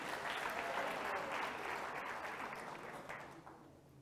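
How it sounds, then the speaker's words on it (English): A large audience at the 23rd Annual AMESA Congress bursts into dense, sustained applause that stays strong and then gradually tapers off over the final seconds, with no voices rising above it. "Give yourself a round of applause"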